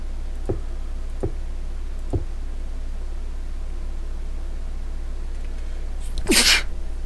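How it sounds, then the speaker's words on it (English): A single loud, sharp sneeze near the end, after a few faint ticks over a steady low hum and background hiss. "I sneezed in your ears again."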